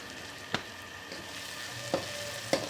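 Tomatoes are stirred into frying garlic and ginger, a low steady sizzle under three distinct scraping clicks of a spoon against the pan, close by.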